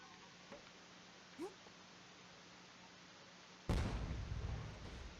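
A tank dropping in from above in the video game Broforce lands with a heavy rumbling crash that hangs and slowly fades, following a few faint small pops over steady background hiss.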